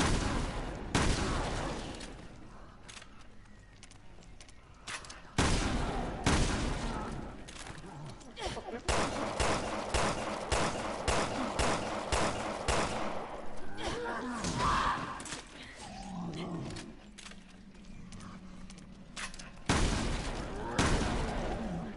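Bursts of gunfire crack out repeatedly in the video game RER2, loud volleys separated by brief pauses, mixed with in-game effects and occasional talking from the player.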